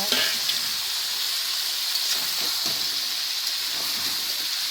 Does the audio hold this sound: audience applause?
no